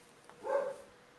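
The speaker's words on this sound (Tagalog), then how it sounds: "Tumatawag yung aso." One faint, drawn-out dog bark sounds from somewhere in the house during an online math class, brief and somewhat distant, with no talking over it.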